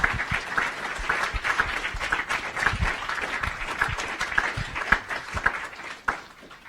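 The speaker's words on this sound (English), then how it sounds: "Give yourselves a round of applause" A room full of students applauding themselves at the close of a two-week polymers program, a close, busy stretch of clapping lasting several seconds before it thins out and fades near the end.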